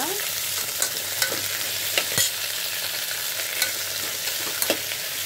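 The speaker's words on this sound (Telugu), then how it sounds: "ఇవి ఒక 2-3 మినిట్స్ వేగాక" Brinjal pieces fry steadily in a hot pan, a constant close sizzle broken by a few sharp scrapes and clinks of a spatula stirring, with no voices.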